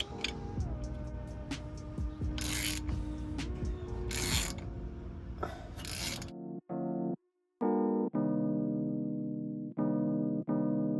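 A hand ratchet clicks in rapid bursts while tightening a front suspension bolt on a 2011-2016 Scion tC, close and clear, with short pauses between strokes and a few sharp metallic knocks.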